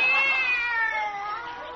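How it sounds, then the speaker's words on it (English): A cat meowing during a 1950 comedy radio show: one long, drawn-out meow that slowly falls in pitch, close and fairly loud, with no talk over it. "No, just another cat."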